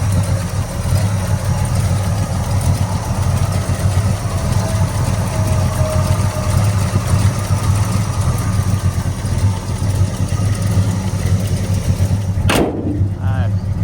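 A Majestic Blue 1966 Pontiac GTO with a Tri-Power 389 V8 rated at 335 hp and a four-speed idles steadily and close by, a deep continuous rumble, with a sharp brief knock near the end.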